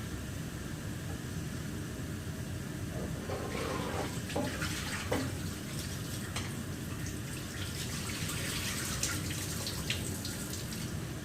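Cold water runs steadily from a household tap, a continuous broadband rush with faint drips and splashes in the middle, alone at moderate level.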